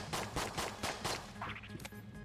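YV bullets firing in the dungeon shooter Enter the Gungeon, a rapid rhythmic burst of about five punchy shots in quick succession, loud and close, with a fluttering tail at the end.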